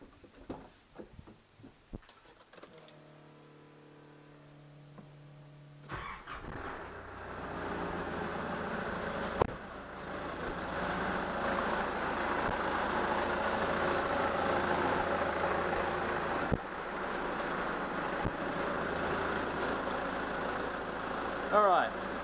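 A car engine cranks with a whirring starter, catches and settles into a steady, moderately loud idle that runs on for the rest of the stretch.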